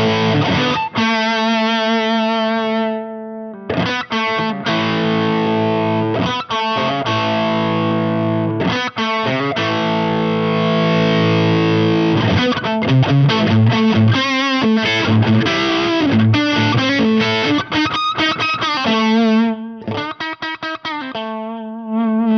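Distorted high-gain electric guitar played through a Seymour Duncan Killing Floor boost into an amplifier's boosted channel, loud and continuous with chugging riffs, sustained chords and short gaps, no talking.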